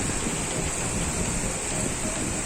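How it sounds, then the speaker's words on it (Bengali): Heavy rain with big drops pouring down outside a balcony, a dense, steady roaring hiss close by without a break. "আর কি বড় বড় বৃষ্টির ফোঁটা পড়ছে দেখো।"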